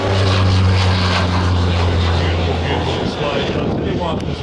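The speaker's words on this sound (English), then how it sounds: "there's one thing you have to say about the Friendship. It's a good-looking aeroplane" A Fokker Friendship propeller airliner makes a high-speed pass at the Omaka Classic Fighters air show, its engines giving a loud, steady droning roar that fades slightly as it passes.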